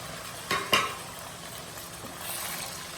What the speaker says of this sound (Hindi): चिकन को आपने अच्छी तरह से फ्राई कर लेना है